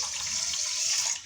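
Water poured from a container into a kadai holding sugar for jalebi syrup on a home stove, a steady splashing pour lasting about a second, close and alone.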